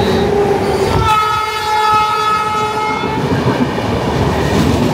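A Bhubaneswar–Howrah Jan Shatabdi passenger train hauled by a WAP 7 electric locomotive sounds a loud, sustained horn for about two seconds over the heavy, close rumble of rolling coaches.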